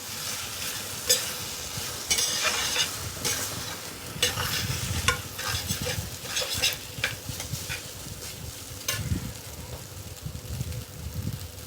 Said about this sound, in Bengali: এইটা একটু তেল দিয়ে ভেজে নিচ্ছি আর কি।